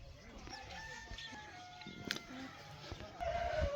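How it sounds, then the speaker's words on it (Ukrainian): Chickens of various breeds cluck steadily around an eco-park farmyard in Kharkiv region while a rooster crows partway through, with a faint voice briefly in the background. "Тут індики і кури різних порід."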